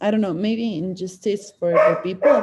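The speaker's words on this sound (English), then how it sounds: "I'm so sorry, that's my dog." A dog barks and yips in the background of a home setting, mixed under a person speaking steadily close by.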